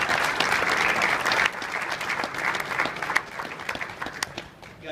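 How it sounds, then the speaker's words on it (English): An audience at a tournament-of-champions breakfast claps steadily for several seconds, a dense, loud round of applause that gradually thins out. "And I want for everyone to clap it up for Marty Marsh"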